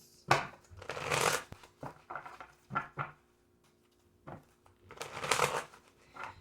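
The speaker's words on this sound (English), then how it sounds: "Do 2 more shuffles." Tarot cards being shuffled in several quick riffling bursts, crisp papery rattles with short pauses between, close and fairly loud.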